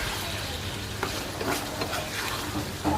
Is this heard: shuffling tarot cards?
no